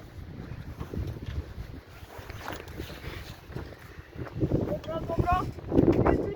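Wind buffets a microphone in low, uneven gusts, rising toward the end, with other voices and movement faintly underneath.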